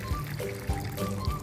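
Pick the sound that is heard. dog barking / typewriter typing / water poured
water poured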